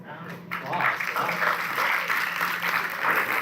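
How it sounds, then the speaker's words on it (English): A film festival audience applauds steadily for a few seconds, a dense wash of clapping at moderate level, with a voice briefly audible beneath it. "Let's give another round of applause."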